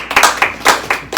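A woman claps her hands during a relationship discussion interview, about six sharp, close claps in a quick, slightly uneven rhythm.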